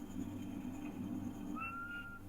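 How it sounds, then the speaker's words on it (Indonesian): A faint whistled note rises and holds near the end over a low steady background hum. "Ais, dia bersiul"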